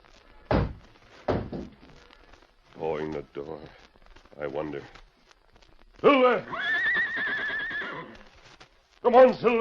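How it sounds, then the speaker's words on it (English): In a radio drama effect, a great horse whinnies in long, shrill, wavering neighs mixed with heavy hoof thumps and clip-clops. The sounds are close and come in separate bursts with short silences between them. "And then he heard a sound, the whinny of his great horse Silver"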